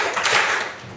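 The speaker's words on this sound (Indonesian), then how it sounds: "tepuk 5," Students in a classroom clap in unison, a quick run of sharp, slightly smeared group claps close by with no voices over them.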